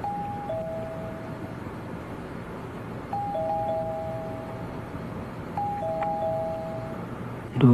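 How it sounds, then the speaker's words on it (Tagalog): A two-tone ding-dong doorbell chimes three times at a steady interval over a low background hum in an apartment, with a soft thump right at the end. "Doorbell ko yun ah."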